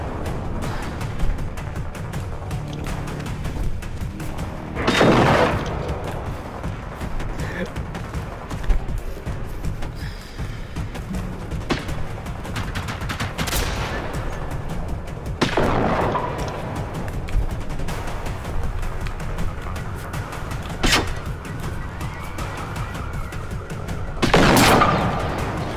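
Gunfire in the shooter game Generation Zero, a series of loud booming bursts and rattling volleys spaced several seconds apart over a rumbling background, no talk heard.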